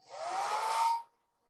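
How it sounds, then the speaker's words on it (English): Hair dryer blowing on a watercolour painting to dry a freshly laid pigment wash: a steady, close whooshing roar that builds quickly, holds for about a second, then cuts off, leaving only a faint fading motor whine. "So I'm going to quickly blow dry that."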